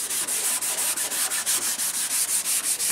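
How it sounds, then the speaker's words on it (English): A power sander works over a car door, giving a close, loud, raspy buzz that pulses in quick regular strokes as it is pushed back and forth across the panel. "Finished up with the sander."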